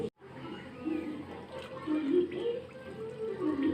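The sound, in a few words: water poured into cornflour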